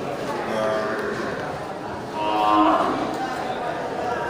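Low mooing calls from a young male water buffalo rise and fall amid a busy livestock market, with people talking nearby throughout.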